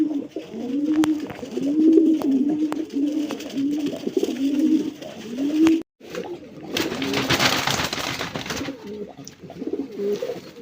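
Pigeons cooing in repeated rolling calls, close and clear, with a brief gap and a burst of rustling or flapping partway through.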